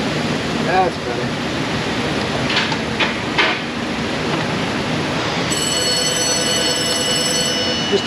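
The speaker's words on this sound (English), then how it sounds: "The phone! It's ringing!" A telephone rings in an auto repair shop, a trilling electronic ring starting partway through and repeating over steady hissing shop noise, with a brief voice and clatter earlier.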